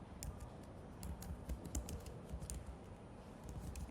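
Someone types an SQL insert query on a computer keyboard. Rapid, even key clicks sound close and continuous, with no talking.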